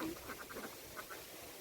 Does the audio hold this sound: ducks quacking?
yes